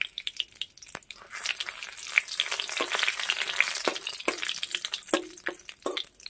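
Dried red chillies and bay leaves sizzle in hot oil, a crisp close frying hiss that swells and fades with sharp spatula knocks and a few pops, no talk.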